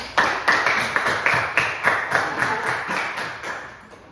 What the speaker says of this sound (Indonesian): Silakan beri tepuk tangan untuk kelompok